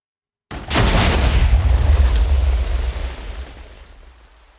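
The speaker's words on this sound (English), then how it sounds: "Okay, so that was an explosion." A Minecraft Vault Hunters explosion bursts in suddenly after brief silence with a loud, deep boom, then rumbles and decays gradually over several seconds, with no talk.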